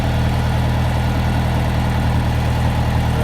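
A farm tractor used for feeding cattle hay bales idles steadily nearby, a continuous low rumbling drone with no break, alone without voices.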